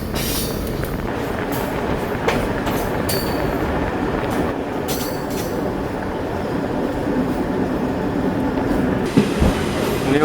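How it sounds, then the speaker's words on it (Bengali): A train rolls into New Mal Junction in the Dooars tea-garden country on the New Cooch Behar to Siliguri line, with a continuous rumble, occasional wheel clicks and a brief squeal near the end. "আমরা মালবাজার ক্রস করে এলাম, এখন ঢুকছে নিউ মাল জংশন।"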